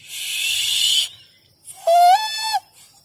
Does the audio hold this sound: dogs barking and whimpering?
no